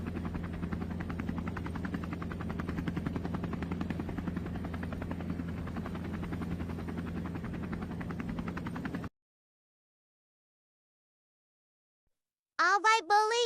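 A police helicopter comes in to land, its steady rotor roar loud and continuous for about nine seconds before cutting to silence, then a brief burst of a voice at the very end.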